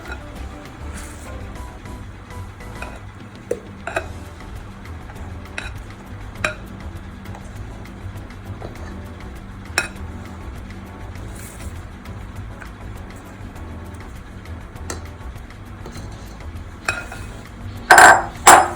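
Sponge cake batter being mixed in a bowl, with steady soft scraping and stirring broken by scattered clinks of a utensil against the bowl and a few louder knocks near the end.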